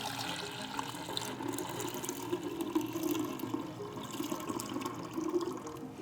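Water drained off a mass of lazurite pigment dough, a steady running and splashing wash that continues evenly throughout with no voices.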